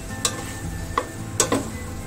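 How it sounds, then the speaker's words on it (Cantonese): Broccoli florets stir-fried in an oiled pan over a soft, steady sizzle, with a few sharp scrapes and taps of a utensil against the pan at irregular intervals. "都係純粹要炒軟個西蘭花"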